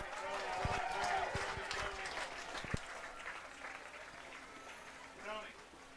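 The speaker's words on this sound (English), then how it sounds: "A nice round of applause for the 90 and 91 girls soccer teams here at White River Elementary School" A crowd at White River Elementary School applauds the 1990 state runner-up and 1991 state champion Noblesville girls soccer teams, sustained, fairly distant clapping that tapers off with a few sharp claps and voices mixed in.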